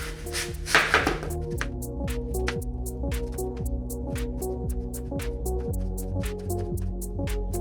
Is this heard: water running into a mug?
no